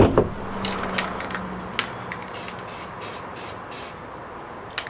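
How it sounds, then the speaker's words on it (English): A spray paint can fires several short hissing bursts in quick, even succession, close by, during DIY work on a drift car angle kit, after a knock at the start and over a quiet background. "I got a little fucking trigger happy with the spray can."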